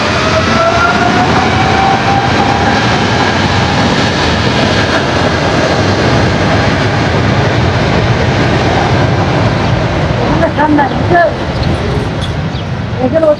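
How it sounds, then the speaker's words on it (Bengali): A Saudi Arabian Airlines Boeing 777-200 takes off, its engines producing a loud, continuous broadband roar with a rising whine. The roar holds steady throughout at close range. "এদিকে সৌদি আরবের উদ্দেশ্যে রওনা দিচ্ছে সৌদি আরাবিয়ান এয়ারলাইন্সের বোয়িং 777-200 মডেলের বিশাল বিমানটি।"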